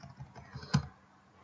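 Keys on a computer keyboard tap quietly as a password is typed, a few soft, irregular clicks with one slightly louder keystroke.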